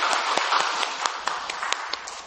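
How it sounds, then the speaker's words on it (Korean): A church congregation claps during a year-end Sunday service, brisk and somewhat scattered hand claps piling up over a steady murmur of the room for a couple of seconds. "영광의 박수를 주님께 돌리십시다"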